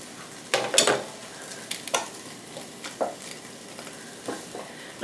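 Handfuls of celery stalks and baby carrots drop into a turkey roaster for beef bone broth, making a few loud clattering thumps near the start followed by lighter scattered knocks and rustles.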